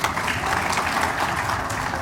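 Brief burst of audience applause for board members at an annual meeting, a dense, even patter of clapping lasting a couple of seconds.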